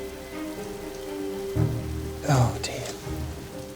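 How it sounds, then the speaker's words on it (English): Heavy rain pours outdoors at a landscape painting competition, a steady hiss of drops hitting surfaces, with people speaking over it and a few louder bursts. "the heavens have well and truly opened"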